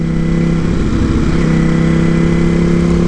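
A Ducati Panigale V4S motorcycle under way gives a loud, constant engine drone with steady harmonic tones, heard up close from the rider's position, with a slight shift in pitch partway through and no talk.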